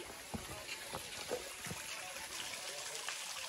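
A small waterfall in the Margalla Hills trickles and splashes steadily, soft and fairly near, with brief louder splashes scattered through a continuous watery hiss.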